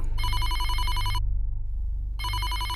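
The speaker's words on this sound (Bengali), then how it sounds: "ঠিক সেই সময় ফোনটা বেজে উঠল" A telephone rings loudly in two long trilling bursts separated by a short pause, with a low hum underneath.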